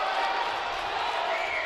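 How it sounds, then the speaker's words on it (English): A basketball crowd at a GBX vs St. Mary's women's game, a dense steady roar of disapproving voices after a foul call, loud and sustained without clear breaks. "crowd doesn't like it"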